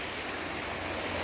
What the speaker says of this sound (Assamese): নদী নামেৰি মাজে যোৱা নদীখনেই এইখন আৰু।